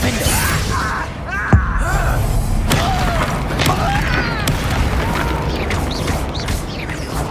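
A Confringo fire spell bursting in Hogwarts Legacy on PS5, a single sharp blast near the start followed by crackling magical effects and game sounds, with a voice speaking faintly underneath.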